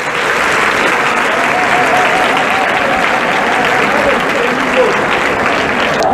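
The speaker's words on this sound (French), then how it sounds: "Applaudissez pour eux les 6e." Loud, sustained applause and crowd noise as school staff and older students welcome new sixth-grade pupils at the start of the school year, a dense continuous clapping with voices chattering and calling beneath it.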